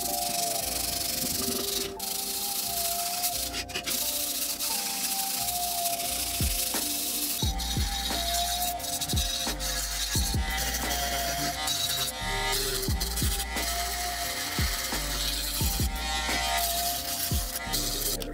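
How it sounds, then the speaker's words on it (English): Continuous scratchy sanding on a hard 3D-printed plastic part, steady rubbing strokes with occasional clicks and bumps, close up. "it's time to get to sanding these things."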